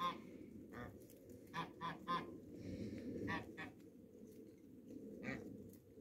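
Farmyard geese honk in a village yard, giving several separate moderate calls in uneven bursts over a low, steady background rumble.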